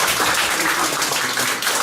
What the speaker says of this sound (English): I think everybody clap their hands, so we'll give them another clap.